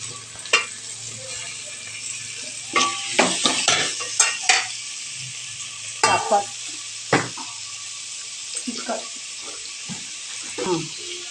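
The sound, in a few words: tomatoes frying in pan for thakkali rasam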